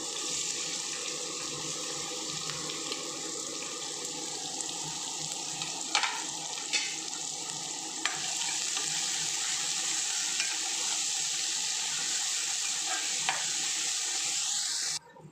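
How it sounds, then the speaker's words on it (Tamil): Chopped onions with cinnamon, cloves and cardamom sauté in oil, making a continuous moderate sizzle with occasional light spoon taps against the pan, and no voices. "வெங்காயம் வதங்கிருச்சு."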